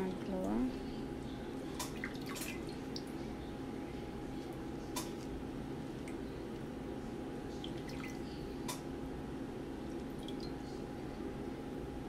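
Plantain pieces are dipped into water while Haitian plantain cups are prepared, giving soft drips and small watery clicks over a steady background hum, with muffled voices in the room.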